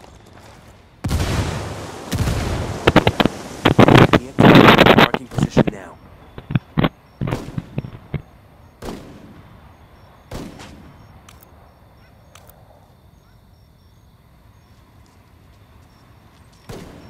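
Heavy bursts of gunfire in Ghost Recon Wildlands, dense rapid volleys in the first few seconds followed by scattered single sharp shots further off, with a radio-style voice talking.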